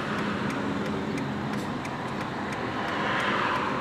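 Steady roar of cars passing on a road in heavy traffic, broadband tyre and engine noise that swells slightly toward the end, with faint periodic ticks and no voices.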